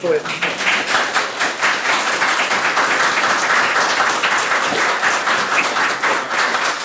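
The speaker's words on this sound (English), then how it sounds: "I'll give a round of applause for all the panellists." Steady audience applause for the panellists at a talk on net art and code-based systems. Dense, even clapping fills the room for about seven seconds at a loud level.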